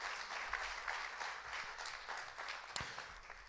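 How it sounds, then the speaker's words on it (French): Steady applause from a church congregation during a Sunday celebration service fills the whole stretch, even and moderately distant, with a sharp knock near the end. "On peut applaudir celui qui nous applaudit."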